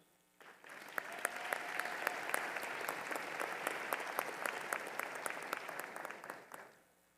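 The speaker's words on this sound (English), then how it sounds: "Please give our faculty and staff a warm round of" A large commencement audience gives faculty and staff a warm round of applause: a dense wash of clapping swells in, holds steady for several seconds with sharp individual claps standing out, then fades out.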